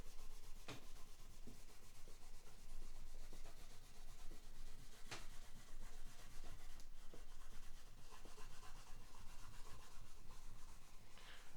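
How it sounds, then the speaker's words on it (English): A cloth rag rubs over an oiled Seagull S6 guitar body, wiping off excess oil in a steady, soft scuffing rhythm that stays close and continuous, with a few light taps and knocks scattered through. "I'm just using the corners that were clean and did not have oil on them to wipe up the excess."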